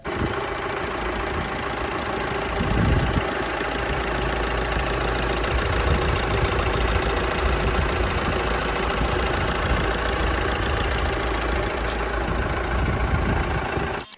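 A four-cylinder diesel engine in a Pro X vehicle idles steadily up close, a constant low rumble with a faint knocking clatter running through it, no voices.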